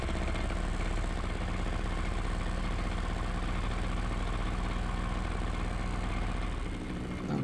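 Paramotor engine running steadily at takeoff in Vendée, a loud continuous drone with a low hum and broad buzzing texture that holds nearly unchanged before easing slightly at the very end.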